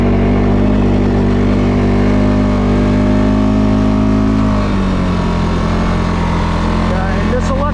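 A 2022 CFMOTO CFORCE 600 ATV engine drones loudly and steadily while climbing a hill, its pitch shifting slightly midway as the load eases, with some wind and rattle near the end.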